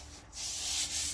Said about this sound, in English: After about 2 hours of just sanding,